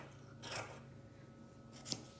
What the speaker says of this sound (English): I will take my scissor and I will shape it.